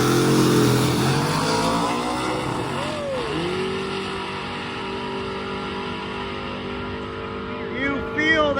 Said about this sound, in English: we have the Camaro and Pontiac up here making a pass